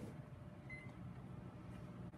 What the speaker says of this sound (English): You will then return the sample back to the microwave for an additional minute.